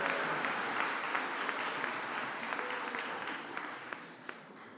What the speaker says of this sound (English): I think she deserves a round of applause for that one.